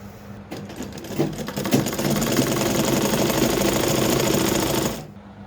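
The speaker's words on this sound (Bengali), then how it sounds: "এই যে দেখেন, এইখান থেকে আমরা সেলাই করব।" A sewing machine stitches the armhole joint of a sleeve, starting with a few short bursts and then running in a steady, close, continuous whir for about four seconds before stopping.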